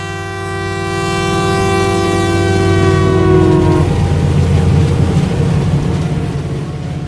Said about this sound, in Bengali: সপ্তাহ দুয়েকের মধ্যেই ঝিমলিকে নিয়ে লখনউয়ের ট্রেনে উঠে বসল রৌনক